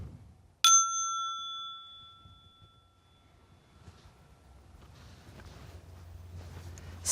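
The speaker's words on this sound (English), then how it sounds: "I'll ring the bell to signify the start of the practice" A single meditation bell struck once to open a practice session, ringing out clearly and sustaining a long, slowly fading tone in a quiet room.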